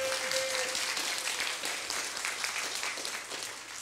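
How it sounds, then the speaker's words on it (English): Enthusiastic applause from a crowd, dense clapping that starts strong and slowly eases off, with a short tone at the start. "Big round of applause for Martin."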